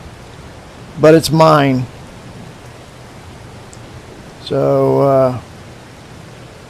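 Rain falls in the farming video game Farming Simulator 22: a steady, even hiss of rainfall runs throughout, with someone talking briefly over it twice.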